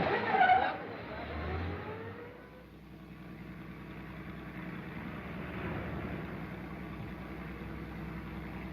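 A car drives at speed during a chase scene in a 1937 American romantic comedy film, its engine rumbling at a fairly low, steady level for several seconds after an initial louder burst of noise.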